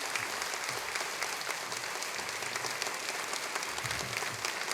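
Church congregation at a Sunday worship service giving a blessing applause to a visiting pastor, a dense, steady roar of clapping from many hands filling the room throughout.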